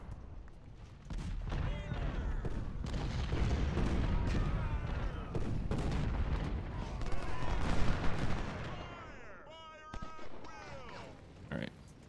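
Artillery and massed musket fire in the Civil War video game Ultimate General: Civil War make a dense, continuous crackle and booming rumble, loud at mid-distance, with shouting voices mixed in.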